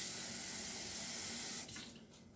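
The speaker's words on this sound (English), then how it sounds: "I'm going to add just a little bit of water from the sink." Water pours from a kitchen sink tap in a steady, close hiss for about a second and a half, then cuts back to a quieter trickle as the flow is shut off, with no talking.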